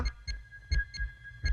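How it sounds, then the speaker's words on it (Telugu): A fast heartbeat sound effect from a scene in the Telugu film Evadaithe Nakenti: deep, muffled thumps in quick double-beat pairs, repeating steadily and heard alone with no talking. "నిమిషానికి రెండు వందల సార్లు కొట్టుకుంటుంది గుండె"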